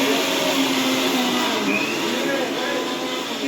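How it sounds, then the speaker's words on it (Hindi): A kitchen mixer grinder whirs steadily at close range, a continuous high-pitched motor drone with faint background voices. "यार मिक्सी चला दी पहले तो इसमें"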